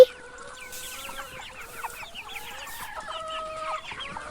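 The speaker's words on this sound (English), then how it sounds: "It is perfect for chickens, Mike." Several chickens cluck and chatter close by in a steady, busy stream while being fed, with a few higher squawks mixed in and no talking.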